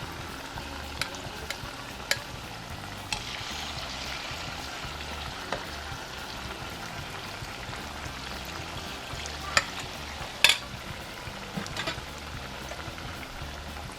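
Battered quail eggs for kwek kwek frying in a pan, a soft continuous sizzle with a few faint clicks and taps, fairly quiet throughout and free of talk.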